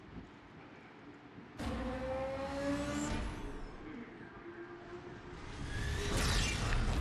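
BMW M3 GT race car in Need for Speed played on an iPad, engine revving and whooshing past with a sudden loud onset and rising, accelerating passes, game audio heard fairly clearly.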